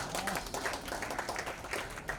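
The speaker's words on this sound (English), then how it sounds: "Round of applause," An audience at the Crossword Book Awards 2020 ceremony applauds a winner, a fairly faint, even rattle of many hands clapping from some distance, with hardly any talk.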